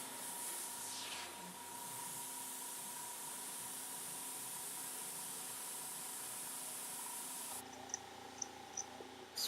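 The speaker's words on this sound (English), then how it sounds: "Spraying a little bit of white near the sign, in the cloud area." Sparmax Zeta compressor driving an airbrush spraying white paint, a steady close hiss of air and paint mist that holds evenly for several seconds, then drops in tone near the end with a few light clicks.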